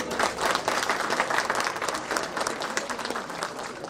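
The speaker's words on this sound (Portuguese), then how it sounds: "para quien pido un fuerte aplauso." A dense, steady round of applause from a conference audience greets a speaker, many hands clapping together at an even loudness throughout with a faint crowd murmur.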